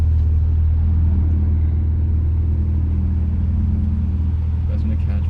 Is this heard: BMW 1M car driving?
yes